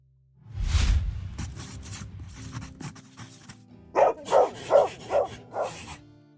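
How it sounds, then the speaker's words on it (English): A dog barking: after some soft rustling and whimpering, five sharp, evenly spaced barks ring out close and loud. "Dog."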